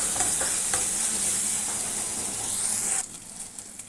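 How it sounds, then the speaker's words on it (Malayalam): Ginger, garlic and green chili paste roasts in a hot pan for a capsicum curry, with a loud, continuous close sizzle and stirring scrapes that drop off sharply near the end. "നന്നായി ഒന്ന് റോസ്റ്റ് ചെയ്യുക."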